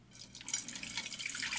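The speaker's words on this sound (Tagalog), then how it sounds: "So, tatapon natin yung tubig niya." Water from a jar is poured out into a sink, a steady close splashing stream that builds after a quiet start and runs on without talk.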